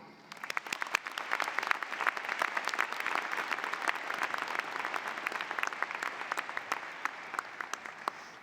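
An audience at a 2015 university school of management graduate commencement ceremony applauds, a dense, sustained burst of many hands clapping at once that carries steadily through the whole stretch before easing slightly at the end.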